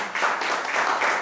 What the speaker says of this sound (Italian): un applauso a Lucia.